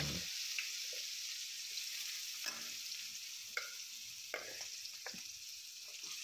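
Chopped onion and cumin fry in hot oil in an Indian kitchen, with a soft continuous sizzle and a few sharp stirring scrapes and clinks spaced across the clip, fairly quiet and close.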